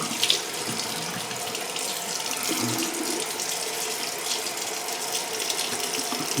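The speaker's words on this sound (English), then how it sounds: "I'm going to do a quick cold rinse, real quick." A bathroom tap runs steadily into a sink for a cold face rinse after shaving, a continuous close hiss of flowing water with faint splashes, no voices.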